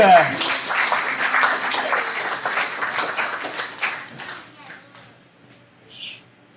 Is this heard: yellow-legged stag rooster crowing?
no